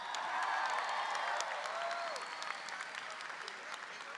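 A high school graduation crowd applauds the class sponsors, dense clapping at full strength that eases slightly toward the end, with faint voices mixed in.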